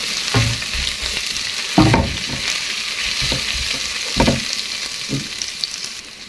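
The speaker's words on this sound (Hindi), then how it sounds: "ये गर्म है पहले से पैन। इसमें 1 चम्मच मैंने लहसुन पेस्ट ऐड कर दिया।" Garlic paste sizzling in a hot pan, a loud, close, continuous fry with a few sharper bursts as it is stirred, no voices.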